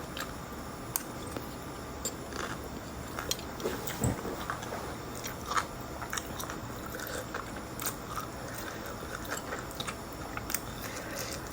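People eat a late-night meal of Thai pork sausage and cucumber salad, with soft crunching, chewing and light clinks of utensils scattered over a steady background, no talking.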